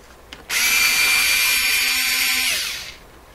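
A power driver backs screws out of the wooden cabinet of a Sanyo GXT4505K record player combo in one close, continuous whirring burst of about two and a half seconds, with no talk.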